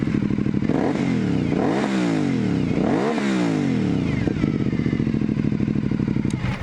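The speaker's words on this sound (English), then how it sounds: "The sound of the engine, it's nice V2 sound" An Aprilia SL 900 Shiver V-twin motorcycle engine runs with a deep, lumpy throb, revving up and down a few times before settling into a steady idle, close by.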